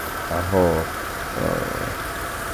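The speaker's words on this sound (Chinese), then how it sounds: "快乐的引擎运转" A repaired Mercedes-Benz R129 300SL engine idles steadily with a low, even hum, while someone talks briefly over it.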